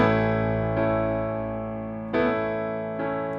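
Piano chords played in a syncopated gospel-choir rhythm, sustained voicings struck a few times with pushed offbeat accents, close and clear with no talk.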